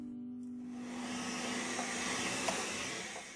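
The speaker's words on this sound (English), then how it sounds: "A central vacuum connects to hose outlets throughout the house, providing a quiet, efficient system" A central vacuum system running in a straw-bale home, a steady whooshing drone with a low hum, constant and unbroken throughout.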